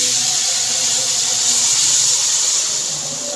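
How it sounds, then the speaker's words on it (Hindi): Milk poured into hot fried chana dal in a pan for halwa sets off a loud, steady hiss and steam sizzle that stays strong throughout and eases slightly at the end, close up with no voices. "2 कप इसके अंदर मैं दूध डाल दूंगी।"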